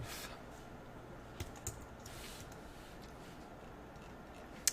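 A few sparse, quiet keystrokes on a computer keyboard over a steady low hiss, with isolated clicks spaced apart rather than a fast run of typing.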